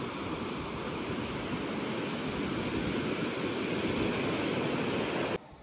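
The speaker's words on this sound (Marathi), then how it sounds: "हा असा काहीसा हा समुद्राचा नजारा दिसतो, खूप सुंदर असा" Sea waves wash steadily onto the Kunkeshwar coast, a continuous broad roar of surf with no break, heard close and fairly loud until it cuts off abruptly at the very end.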